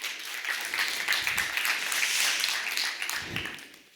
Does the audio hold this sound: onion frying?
no